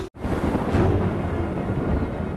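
Thunder strike: a loud, close, broad rumbling roar that begins with a sharp onset and rolls steadily for a couple of seconds without fading, with no voices.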